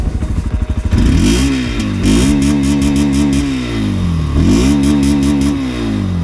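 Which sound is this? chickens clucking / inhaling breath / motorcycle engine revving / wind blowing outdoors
motorcycle engine revving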